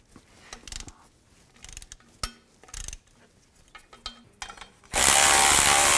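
A ratchet wrench with a 13 mm socket loosens exhaust nuts on a 2008-2012 Ford Escape catalytic converter, short bursts of clicking pawl ratcheting repeated several times, then a sudden loud steady noise takes over.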